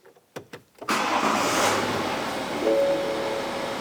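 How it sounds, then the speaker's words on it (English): A car engine is started: a few sharp clicks and a brief crank, then the engine catches and settles into a steady, fairly loud idle with a faint high whine. "Let's turn the car on"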